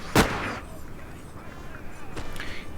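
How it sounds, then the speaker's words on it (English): Infantry musket volleys from the video game Napoleon Total War during a battle with Prussian and Spanish troops: one sharp loud crackling burst near the start, then a second volley later amid a steady din of distant battle. "Prussia's firing onto the Walloon Guards. Spain has one more elite unit. And the light infantry's firing in on them."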